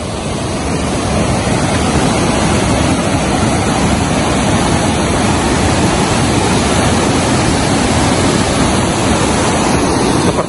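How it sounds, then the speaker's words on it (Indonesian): A river flows down from the Wilis mountains near Dam Bagong in Trenggalek, a steady, loud rushing of water that holds an even roar for the whole stretch with no voices. "Seperti inilah pemirsa, sungai ini"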